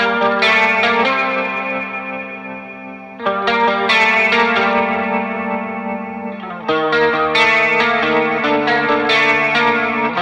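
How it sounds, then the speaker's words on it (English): A lead electric guitar line, drenched in chorus, echo and light distortion, plays sustained ringing phrases that swell and restart in three sections, close and prominent with no voices. "Now the guitar lead."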